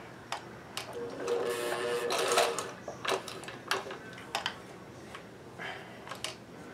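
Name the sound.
vintage sewing machine chain stitching with thick thread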